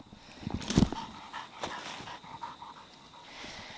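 Dog panting in quick, breathy bursts close by, with a louder rough huff early on, then softer rhythmic breaths continuing against faint outdoor background.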